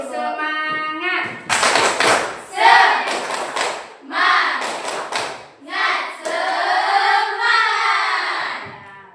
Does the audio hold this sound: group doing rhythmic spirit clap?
yes